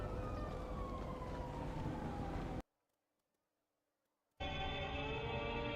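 A fire truck siren in Zoo Tycoon wails and sweeps downward, cuts to near silence for about two seconds, then a loud steady siren tone resumes.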